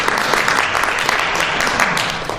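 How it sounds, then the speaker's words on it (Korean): Audience applause fills a fire investigation conference hall after a presentation, steady dense clapping throughout with no break, fairly loud and close. "다시 한번 박수 부탁드리겠습니다"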